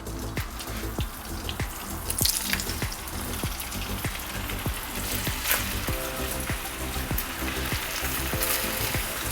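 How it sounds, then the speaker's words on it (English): Bacon frying in a hot pan with a good squirt of oil, a steady crackling sizzle running throughout with regular sharp pops, fairly close and even in loudness, no voices. "a good squirt of oil in there, and then add your bacon to your pan"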